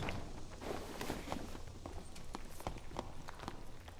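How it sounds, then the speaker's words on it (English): Overlapping footsteps from two characters in a fantasy video game with rogue and wizard classes, a steady run of soft, quick steps at moderate distance under a busy game-ambience bed, no talk. "I think I hear 2 sets of footsteps."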